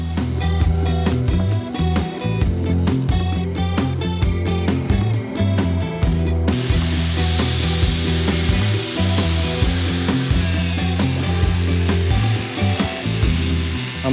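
A power tool cuts metal mounting plates for the double stand of an iron horse in a workshop, a steady mechanical rattle with repeated rhythmic pulses running throughout, briefly cutting out in the high range midway.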